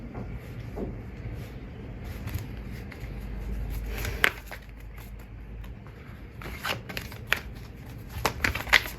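Tarot cards are shuffled by hand in quiet, soft bursts of riffling and flicking with scattered sharp card snaps over a faint room background.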